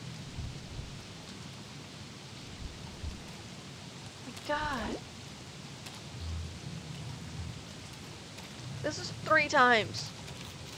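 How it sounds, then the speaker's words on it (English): In a video game, a rainstorm with frogs falling pours down steadily as low thunder rumbles, a soft hissing rain bed running throughout under occasional rolling booms, with a person speaking briefly over it twice. "frog rain again."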